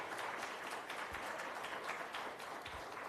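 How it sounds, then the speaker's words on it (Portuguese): A church congregation at a Sunday service applauds in praise, a dense and even patter of many hands clapping that continues steadily throughout at a fairly quiet level. "Você pode aplaudir ao Senhor por isso,"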